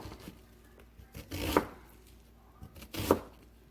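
A knife slices across a bundle of greens on a cutting board at a slow, deliberate pace, giving two clear crunching cuts with soft scraping between them, close and fairly quiet.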